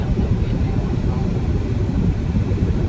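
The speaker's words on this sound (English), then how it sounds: "The cars are driving insane. This is like a major interstate right here" Cars race past on a major interstate as a steady, loud, broadband roar of rushing traffic that continues without a break, heard close to the road.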